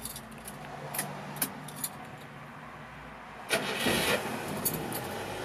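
Keys jangle, then the engine of a 1990 Subaru Sambar 4WD kei dump truck with a 5-speed manual cranks and fires up quickly, settling into a steady running hum.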